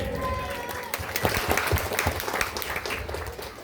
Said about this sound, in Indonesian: Berikan tepuk tangan buat Pak Kades